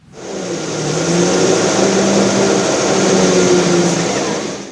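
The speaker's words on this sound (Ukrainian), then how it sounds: "Це броньована розвідувально-дозорна машина, яку одеські волонтери ремонтують для військовослужбовців." Engine of an armoured reconnaissance patrol vehicle under repair by volunteers, running steadily at a mid-pitched idle with a faint rise in revs, close and continuous throughout.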